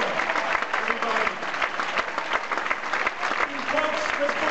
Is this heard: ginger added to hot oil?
no